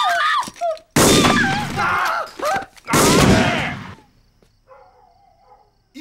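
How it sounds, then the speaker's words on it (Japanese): Gunfire in a movie scene: two loud, sharp bursts about two seconds apart, each ringing out before fading into near silence, with brief voice sounds at the start. "銃声だったな。"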